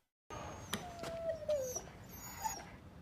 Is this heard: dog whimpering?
yes